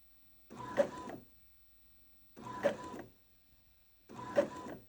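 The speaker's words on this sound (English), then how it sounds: "But this is a Epson inkjet Tank printer I've had for a few years now." An Epson inkjet tank printer runs three evenly spaced print passes, each a steady mechanical whir of about three quarters of a second, close and clear with quiet between them.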